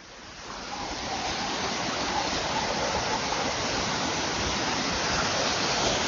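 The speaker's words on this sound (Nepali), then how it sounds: "गजबको झरना" A waterfall at a mountain drinking-water source near a dam, swollen after rain, makes a loud continuous rushing roar that builds in the first second and then holds steady, with no voices.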